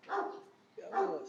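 Dog giving two short barks, close and fairly quiet, about three quarters of a second apart.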